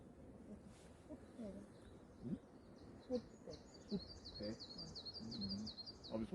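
Birds chirp and sing in a forest recreation area in Danyang at sunrise, with a run of repeated high tweets in the second half, heard at a distance and fairly faint against soft rustling and background noise.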